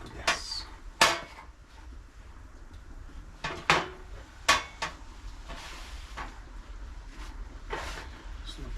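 Food being stirred in a pot in a cabin kitchen, with scattered metallic clinks and scrapes of a utensil against the pot, close and fairly quiet, in irregular bursts.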